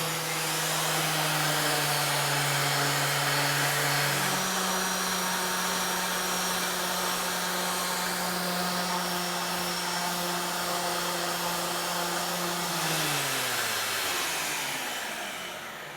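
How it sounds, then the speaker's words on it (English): An orbital sander sanding a concrete countertop runs with a shop vac hooked up to it, a loud steady motor whine that shifts pitch partway through and then winds down near the end, with no talk. "I'm going to turn on the sander. We're going to have it hooked to our shop vac."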